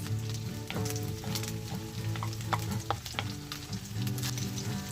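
Chicken sizzles and fries in a pan with some stirring, a dense continuous crackle close up and fairly quiet, with no voices.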